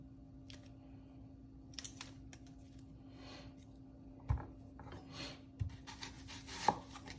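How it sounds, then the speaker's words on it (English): A knife chops an onion on a cutting board in a quiet kitchen, with scattered soft knocks and cuts and a few sharper chops toward the end. "Now we're just going to chop our onion into 4."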